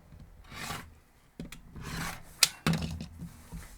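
Quilt fabric pieces for a 12-inch block are trimmed with a cutting tool, giving soft scraping and rubbing sounds followed by a few sharp clicks and thumps, close and fairly quiet.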